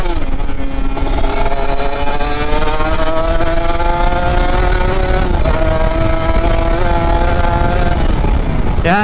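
Kawasaki Ninja RR two-stroke motorcycle with a VM28 carburetor and open filter, engine held at high revs on the throttle, a loud steady whine with rising harmonics and a brief dip midway, close and continuous without talk.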